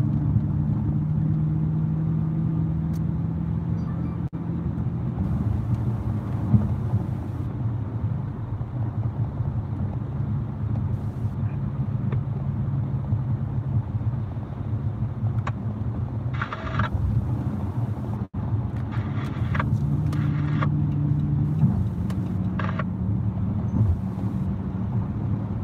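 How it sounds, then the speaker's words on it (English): Steady road traffic around a car in Florida, a continuous low rumble of engines and tyres with wind noise, heard from inside the moving vehicle and holding fairly loud and even throughout, no talk. "The fact that there's vehicles around me, that's traffic."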